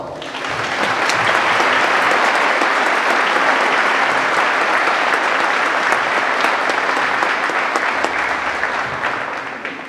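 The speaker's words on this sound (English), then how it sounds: "A big round of applause." A large crowd applauds veterans at a Veterans Day gathering, a loud, dense wash of clapping that swells up quickly and holds steady for the whole stretch with no talk over it.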